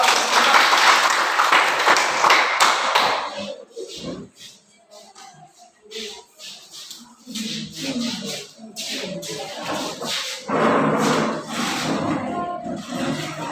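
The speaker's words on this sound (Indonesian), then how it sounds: "Berikan aplaus buat kelompok dua." Classroom applause for a student group, a burst of clapping from many hands that dies down and returns in waves, with some voices and shuffling among the claps.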